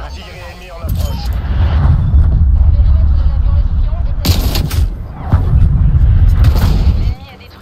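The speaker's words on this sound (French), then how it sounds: "Artillerie ennemie en approche" Enemy artillery barrage in Call of Duty Cold War: sustained loud rumbling booms and blasts, with sharper impacts around the middle and later, continuing heavy and close throughout.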